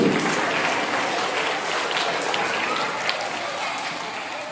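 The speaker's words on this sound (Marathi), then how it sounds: "टाळ्या वाजवा रे सगळ्यांनी" A crowd at a school annual prize-giving ceremony claps in sustained, steady applause that fills the whole stretch and eases off slightly toward the end.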